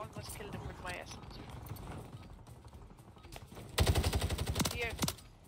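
Rapid automatic gunfire from Call of Duty Warzone on Rebirth Island, with a dense burst of close, loud shots near the end after quieter game sounds and talk.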